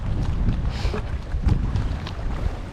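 A sea kayak paddled around an Alaskan island in wind and rain, heard as steady blustery wind rumble with soft water wash throughout, no voices.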